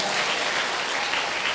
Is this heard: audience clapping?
yes